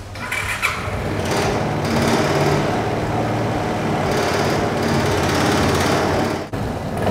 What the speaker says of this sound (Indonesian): kita akan coba dengar suara mesinnya seperti apa ya setelah dilakukan purging plus gurah